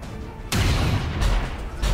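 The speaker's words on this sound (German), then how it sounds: "Heftiger Schuss gegen das Vieh." Heavy booming gunshots in the video game XCOM 2, a loud blast followed by two more, each with a rumbling tail.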